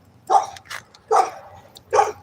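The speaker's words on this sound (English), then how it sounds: "Oh, it's a pit bull." A pit bull barks three times at a steady pace, each bark sharp and fairly close, with quiet background between them and no talking.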